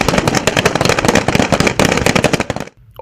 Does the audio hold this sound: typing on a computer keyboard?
no